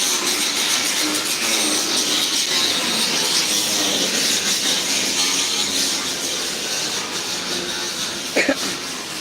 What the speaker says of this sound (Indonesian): Agak berisik soalnya kita ada di bengkel ya